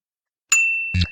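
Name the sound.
bell ding in a video game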